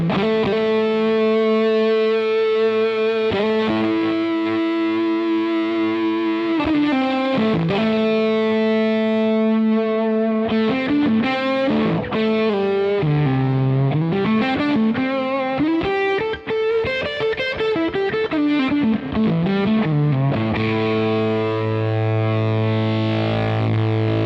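Electric guitar run through a Kernom MOHO fuzz pedal on mood 4, thick and fattened vintage Big Muff-style fuzz carrying sustained notes, bends and melodic lead phrases, loud and unbroken with no voices.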